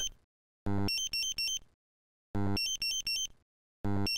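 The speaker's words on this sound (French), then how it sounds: "Les alarmes sonores, visuelles et vibratoires sont répétées dans le cas d'une alarme pour laquelle la plage de mesure n'est pas atteinte" A Dräger X-am portable gas detector sounds its alarm: repeating bursts of a loud buzz followed by sharp high beeping tones, three cycles with short silences between.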